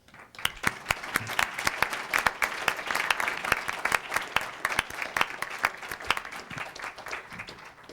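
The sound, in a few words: applause at school board meeting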